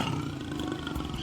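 A big cat at a Brazilian animal park lets out a deep, sustained roar, powerful and close, filling the whole moment without any talking.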